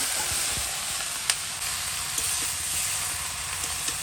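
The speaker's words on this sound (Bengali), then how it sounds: "শসাগুলো দিয়ে দিচ্ছি" Cucumber pieces cook in a hot pan after shrimp, producing a continuous dense sizzle up close with a few faint clicks of utensils, no one speaking.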